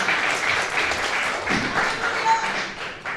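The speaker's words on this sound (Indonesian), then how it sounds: "berikan tepuk tangan bagi saya" A church congregation at a Sunday communion service claps together in a dense, continuous patter of applause, with a soft thud partway through.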